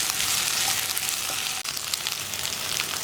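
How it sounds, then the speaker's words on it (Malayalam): Eggplant pieces fry in a hot pan while being stirred, a dense close-up sizzle with a brief scrape partway through, continuous and fairly loud with no talking. "ഞാനൊരു 3 മിനിറ്റ് ഈ വഴുതനങ്ങ ഒന്ന് ഇളക്കി കൊടുത്തുകൊണ്ടിരിക്കട്ടെ"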